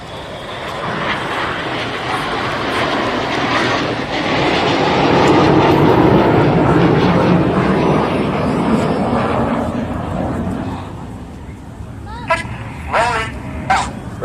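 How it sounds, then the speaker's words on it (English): Red Arrows display jets fly a corkscrew roll at the Rhyl air show, a loud, sustained broadband jet roar that swells and slowly fades, with a commentator speaking over it. "Red 6 working hard, flying his jet only 8 feet away from Red 7, but doing it while he's upside down"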